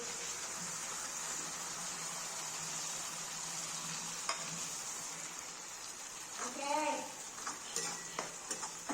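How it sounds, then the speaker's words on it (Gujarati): Onions and a prepared spice paste frying in a pan for a Punjabi potato and fenugreek curry, a soft continuous sizzle with faint stirring scrapes and a brief voice partway through. "આપણે કાંદા સતળાઈ ગયા છે તો ત્યારબાદ આપણે જે પેસ્ટ આપણે તૈયાર કરી છે તે પેસ્ટ આપણે અંદર નાખી દઈએ"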